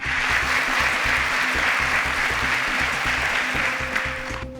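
A studio audience on a Nigerian student quiz show applauds a contestant, giving a loud, continuous burst of clapping over a low rhythmic music bed that eases slightly near the end.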